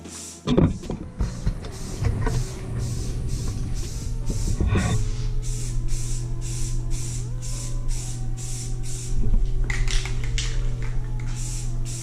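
A clear coat is sprayed onto a dog cage from an aerosol can in repeated hissing bursts, close and fairly loud, over a low steady mechanical hum.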